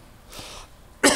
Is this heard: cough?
yes